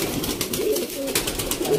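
Sialkoti pigeons coo softly in low, throaty repeated calls close by, with light scratching and movement noise around them and no voices.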